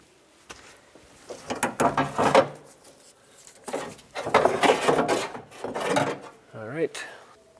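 A wrench works two 10mm nuts off a window regulator motor from the tailgate of a 2003-09 Toyota 4Runner, making several bursts of close ratcheting and rubbing separated by short pauses.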